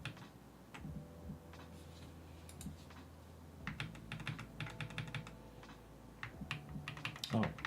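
Rapid typing on a computer keyboard, with irregular bursts of close, crisp key clicks that pause briefly and then resume.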